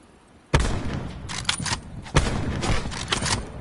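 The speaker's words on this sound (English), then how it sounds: "I missed my first few shots" Gunfire in a solo battle-royale shooter match, with two sharp, loud shots roughly a second and a half apart, each followed by a rumbling tail and smaller crackling reports, and no talking.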